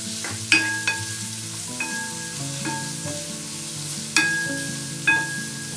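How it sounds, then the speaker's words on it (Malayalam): Onions are sautéed toward brown in a pan for cashew chicken curry under a soft steady sizzle, punctuated by several sharp ringing knocks of a utensil against the pan. "ബ്രൗൺ കളറിലാവണം നമ്മളിത് ഇങ്ങനെ വഴറ്റിയിട്ട്"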